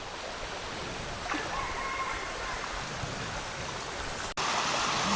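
Soft, continuous gurgle and hiss of water flowing through a rocky outcrop in a Thai village, fairly quiet and steady with a brief click near the end.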